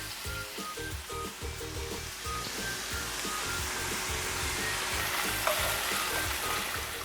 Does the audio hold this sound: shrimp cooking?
yes